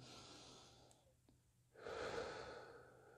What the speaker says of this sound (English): Take deep breaths in,